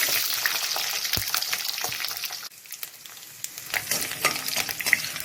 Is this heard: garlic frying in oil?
yes